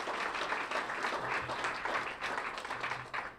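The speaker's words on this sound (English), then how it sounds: "if you could just really give a round of applause for the staff" An audience applauds the staff at an event, a steady wash of many hands clapping that holds at moderate, slightly distant loudness for the whole stretch without pause.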